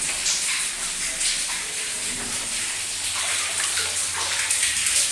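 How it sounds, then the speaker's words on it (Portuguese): Sewage water backflows and floods into a garage bathroom with a loud, continuous rushing, splashing gush that stays steady throughout, close to the listener. "Esse é o alagamento, retorno de água de esgoto que vem para o meu banheiro da garagem."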